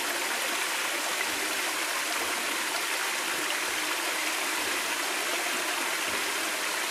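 Dindéfelo waterfall cascading in Senegal, a dense, even roar of falling water filling the air, steady and close with no pauses.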